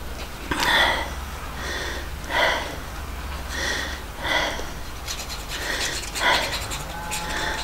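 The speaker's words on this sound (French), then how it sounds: "Si peu que je bouge, je suis essoufflée." A woman breathes heavily and pants in repeated, roughly evenly spaced breaths, close and fairly quiet over a low steady hum, with no clear speech.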